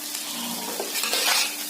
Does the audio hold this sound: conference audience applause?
no